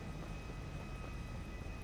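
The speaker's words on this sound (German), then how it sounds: "Das hört ja an wie ein Jet," A jet aircraft engine in the GTA Online video game gives a steady, dense roar that stays loud and even from start to finish, with no voices.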